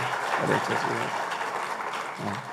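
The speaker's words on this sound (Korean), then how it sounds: "수고하신 분들 우리 박수로 축복하겠습니다." Church congregation applauding to bless the helpers during a Sunday service, a brief burst of clapping mixed with voices.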